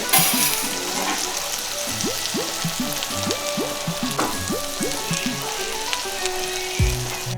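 A chicken and ham burger patty sizzles in a pan beside onions, tomatoes and buns, a loud continuous close-up crackle with small popping bursts throughout and no talk.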